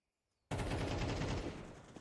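A sudden loud burst of AWP sniper rifle fire in Counter-Strike 2 cuts in after a brief near-silence, followed by a dense, roaring rumble that slowly fades.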